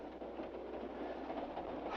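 Steady broadband rumble of a train running on rails, heard from inside the carriage as a continuous, fairly quiet drone with no voices.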